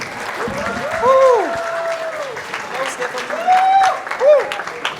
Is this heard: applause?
yes